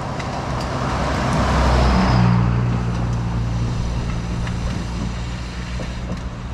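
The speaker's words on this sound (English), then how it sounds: "Oops, there's a car coming." A car approaching along a road beside a railway crossing, its engine and tire noise swelling steadily to a peak near the middle and then easing into a low rumble, with no talk.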